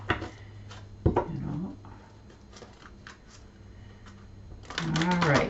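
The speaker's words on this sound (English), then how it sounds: "I am going to shuffle and deal you an Angel Oracle card" A deck of Angel Oracle cards is shuffled close by in soft, papery riffling bursts at the start and again near the end, with a voice talking over and between the shuffles.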